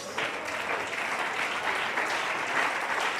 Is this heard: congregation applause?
yes